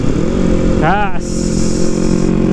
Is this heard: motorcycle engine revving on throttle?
yes